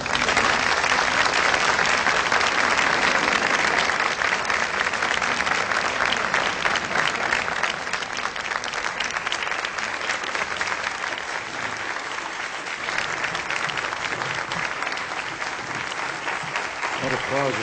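Sustained, loud applause from a large formal audience greeting President Reagan, Mrs. Reagan and Mother Teresa, a dense steady roar of many hands that continues throughout with faint voices mixed in.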